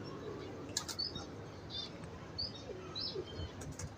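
A pigeon beats its wings in soft fluttering bursts at a pigeon loft, with faint chirps and coos scattered through a steady, fairly quiet background.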